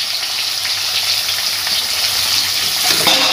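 Shrimp sizzle and crackle steadily as they fry over high heat, a dense, continuous hiss of hot oil that swells slightly toward the end, with no voices over it.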